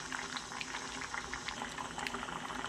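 Chicken pieces added to hot oil tempered with whole spices, a dense continuous crackling sizzle with quick pops, steady and moderately quiet.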